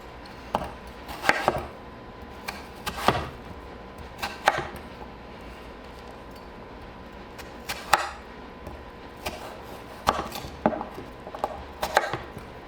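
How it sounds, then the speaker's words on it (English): Carrots and radish are chopped with a knife on a board, sharp irregular thunks in small clusters, close and clear over quiet room tone, no talking. "The carrots and the radish we'll cut into smaller pieces"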